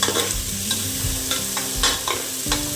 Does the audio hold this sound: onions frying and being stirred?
yes